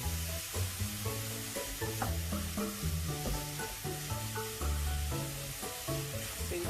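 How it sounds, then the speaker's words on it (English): Mushrooms sizzle in melted butter in a pan for spinach stew, giving a steady bright hiss with a few small crackles while tonal music plays underneath. "Mushrooms to the melted butter."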